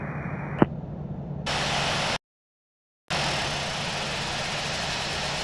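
An Avianca A320 taxis in the Infinite Flight simulator, a steady hissing engine drone that steps up in level, cuts out completely for about a second, then resumes just as evenly.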